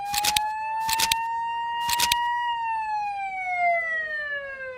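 A fire brigade vehicle's siren wails at a warehouse fire, a long rising and falling tone heard close and loud, broken early on by several short sharp bursts.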